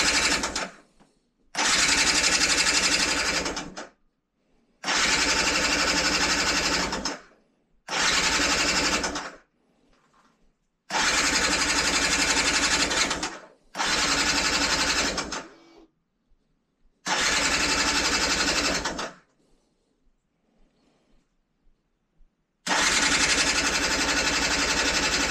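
Repeated attempts to start a Yamaha TDR 125 motorcycle, each a loud, steady churning whir lasting a few seconds, cut off by silence and started again about seven times, close up and without talking.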